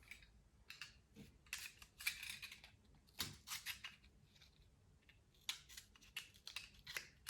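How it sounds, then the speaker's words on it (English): Sharp blade slicing through the backing paper on a new Meto price-gun ink roller, heard as a series of short, close crisp cuts and rasps in quiet surroundings. "you slice the backing paper"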